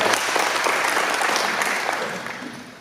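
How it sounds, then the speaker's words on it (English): Dense, steady clapping from an audience at a gathering, loud and close, sustained for a few seconds and tapering slightly at the end. "round of applause for y'all"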